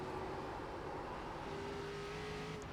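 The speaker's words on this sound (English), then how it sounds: "You can hear the car just getting really tight." An ARCA stock car engine droning steadily in the iRacing simulator at Lime Rock, a continuous close-up roar with a faint pitch that dips and then holds level, heard alone with no voices.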